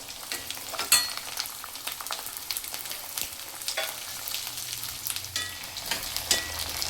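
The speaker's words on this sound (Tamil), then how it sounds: "இதில் தாளிக்கிறதுக்கு கடுகு வெந்தயம்" Mustard seeds, fenugreek, small onions and garlic sizzle and crackle steadily in hot oil for a South Indian kuzhambu tempering, with scattered pops and stirring scrapes up close.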